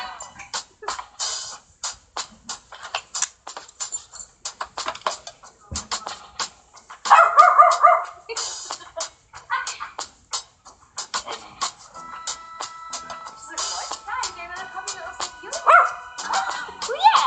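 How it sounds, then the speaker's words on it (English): A dog barks and yips in short, irregular bursts amid other animal noises, mixed with louder moments and some background voices. "Sweet dog."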